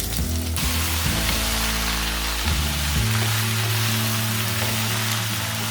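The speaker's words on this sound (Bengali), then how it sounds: "আপেলগুলোকে আমি তেলে ভাজতে থাকবো।" Chopped apple pieces fry in oil with garlic for an apple pickle, giving a steady, even sizzle that runs the whole time beneath louder background music.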